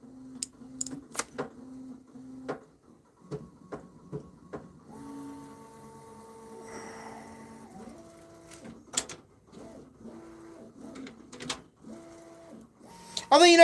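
A Bambu Lab X1 3D printer works nearby with stepper motors whirring through rising and falling tonal runs, interspersed with short clicks and beeps, fairly quiet and intermittent.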